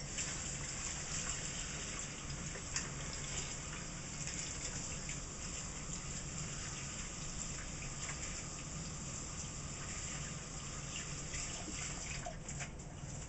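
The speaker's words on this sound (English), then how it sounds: "So, I'm going to wash my hands real quick." Hands being washed under a running kitchen tap while making pumpkin pie, a steady close gush of water flowing continuously, with no talk.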